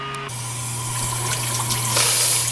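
Tap water runs steadily into a sink while an injured thumb is rinsed after a fish bite during topwater fishing at Buffalo Lake, a continuous close hiss and splash with a brief louder gush near the end.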